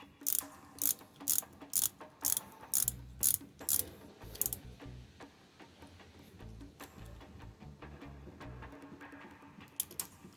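A ratchet tightens the chain tensioner on a motorcycle cam-chain engine during assembly, with rapid, close, crisp clicking in repeated short bursts, then softer, scattered mechanical clicks.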